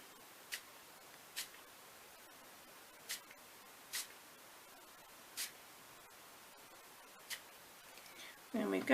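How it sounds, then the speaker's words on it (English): A spray bottle misting water onto Brusho watercolour crystals on paper, with about seven short, sharp spritzes spaced irregularly over a quiet background and a brief rustle at the end. "we'll see how that takes when we spray it with water"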